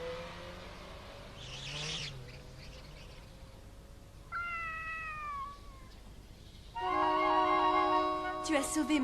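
A cat meows a few times in a cartoon, clear and fairly close, with a high harmonic cry near the end over faint background noise.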